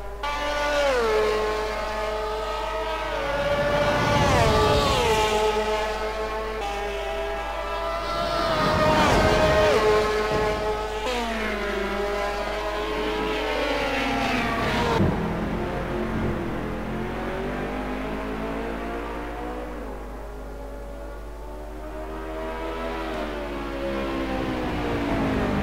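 A Ferrari GT2 race car in Assetto Corsa laps Monza during a sim endurance race. The engine's whine climbs and drops repeatedly through gear changes, loud at first, then fading to a more distant drone.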